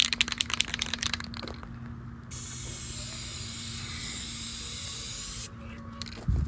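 Metallic silver spray paint is laid in long, thick passes over a 4th-gen Toyota 4Runner grille, one continuous close hiss that runs for several seconds after a few rattling clicks of the can.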